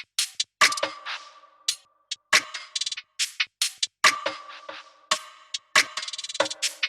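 A dry percussion loop of crisp, sharp hits plays alone in a busy, irregular pattern, with clicky transients and short tonal taps repeating in quick clusters.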